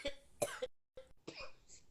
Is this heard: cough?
yes